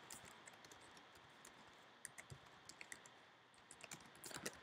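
Light clicks from typing on a computer keyboard come at a quiet, uneven pace, speeding into a quick flurry of keystrokes at the end.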